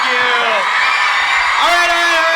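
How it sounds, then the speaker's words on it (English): Audience at a junior thespian district closing ceremony whooping and cheering loudly, with two drawn-out high yells rising over a constant crowd roar. "Everyone, please cheer."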